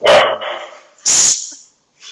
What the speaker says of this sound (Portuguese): Cacau é quem? Seu cachorro?